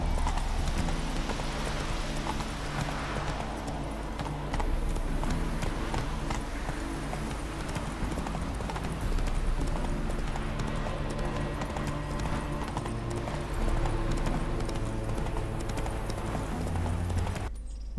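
A horse gallops in a video game, with a fast, continuous clip-clop of hooves that stays loud and close alongside a steady background hum.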